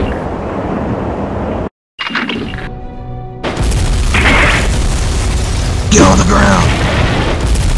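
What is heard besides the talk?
bomb missile explosion in stop-motion film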